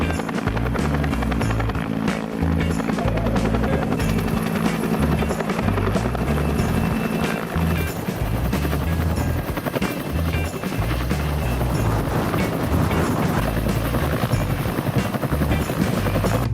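A helicopter flies close by, its rotor thumping in a loud, steady rhythm throughout.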